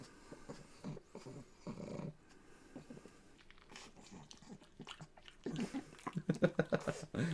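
A pet dog gnaws on a big chew bar, with intermittent chewing and low growling grumbles close up, growing louder and more rhythmic toward the end.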